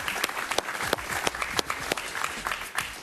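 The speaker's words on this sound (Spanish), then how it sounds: "Un aplauso para Marién, por favor." Applause from a studio audience for a Venezuelan political scientist guest on a talk show, a steady dense clapping wash lasting throughout at moderate loudness with no talk over it.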